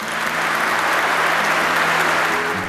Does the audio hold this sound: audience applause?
yes